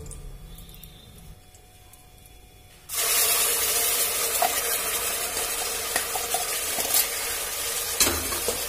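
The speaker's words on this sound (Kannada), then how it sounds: "ರುಬ್ಬಿರೋ ಮಸಾಲಾ ಫುಲ್ ಹಸಿ ವಾಸನೆ ಹೋಗಬೇಕು ಅಲ್ಲಿ ತನಕ ಹುರಿತೀನಿ ನಾನು" Ground masala paste hits a hot pan and bursts into loud, steady sizzling that carries on with faint stirring clinks, after a quieter opening stretch.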